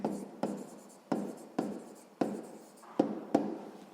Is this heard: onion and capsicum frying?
no